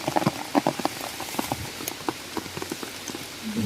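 Heavy rain falls in a rural setting during mushroom gathering, with steady hiss and irregular close drops and patters striking a surface, some sharp and loud, with no talk.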